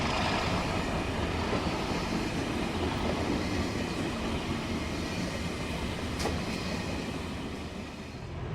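A train rumbles along on its final approach to North Pole depot at Kensington Olympia, a steady broad rolling roar with wheel noise, fairly distant and easing slightly toward the end.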